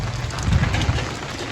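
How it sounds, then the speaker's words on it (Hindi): Heavy stormy rain lashing down in Dadyal, Azad Kashmir, a dense continuous roar with low rumbling gusts, steady and close throughout. "इतनी तेज़ और तूफानी बारिश।"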